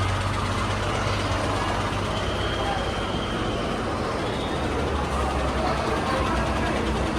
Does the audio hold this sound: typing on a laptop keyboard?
no